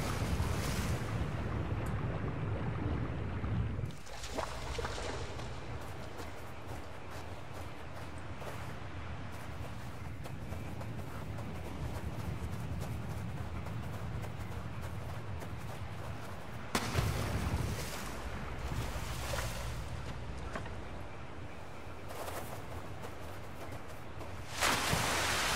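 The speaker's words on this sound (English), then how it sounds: "So the boat will just drift over to the other side on its own accord" Boat drifting across water in The Cave on Wii U, with a steady wash of waves and wind-like ambience running throughout, loud and continuous, swelling briefly at a few points.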